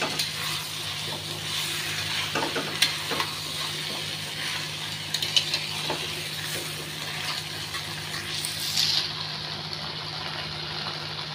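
Soybean chunks with turmeric and salt being sautéed in a pan for a vegetarian dish: a steady sizzle with intermittent scraping and stirring knocks and a low background hum, moderately close, with no one talking.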